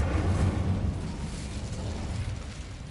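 A fiery Incendio spell blast cast in the video game Hogwarts Legacy, a loud, deep rumbling burst at the start that roars on and slowly eases over a few seconds.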